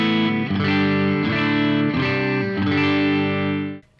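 An electric guitar strums a few sustained chords drenched in reverb and modulation, ringing out and fading at the end.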